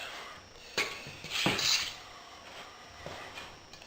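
Welsh cake dough is stirred in a bowl as milk is worked in, soft scraping and a few clinks of utensil against the dish, quiet and close with no talking.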